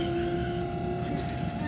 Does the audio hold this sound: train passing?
yes